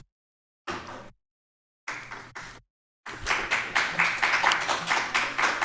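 Audience clapping at a city council meeting: two short bursts of hand claps separated by silence, then a louder, sustained round of applause that keeps going to the end.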